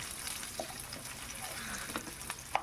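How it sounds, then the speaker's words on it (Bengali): Onion and garlic sizzle gently in a pan while being stirred for white sauce chicken pasta, a steady quiet frying hiss with a few soft scrapes and clicks of the spoon. "পেঁয়াজটা দিয়েও ভালো করে একটু নাড়িয়ে চাড়িয়ে নেব"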